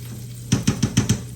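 Onions frying in a pan alongside a garden-vegetable meal, a low sizzle under five quick, evenly spaced clattering stirs or scrapes near the pan.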